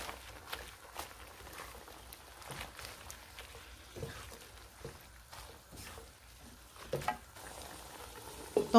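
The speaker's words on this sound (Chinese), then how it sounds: "將佢撈一撈勻啦" Vegetable leaves stirred into a wok of simmering vegetarian stew bring faint, scattered scrapes and soft clatters over a quiet, wet background, with a few louder knocks near the end.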